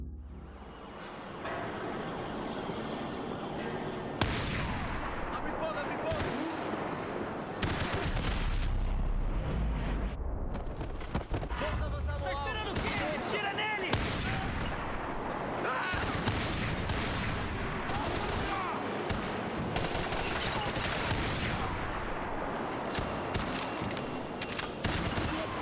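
Max Payne 3 gameplay gunfire: bursts of rapid shots and heavy booming blasts come in loud clusters over about twenty-five seconds, with chaotic action noise between the volleys.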